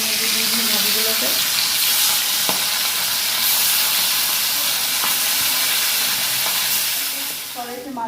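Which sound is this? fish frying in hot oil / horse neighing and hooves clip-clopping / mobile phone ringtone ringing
fish frying in hot oil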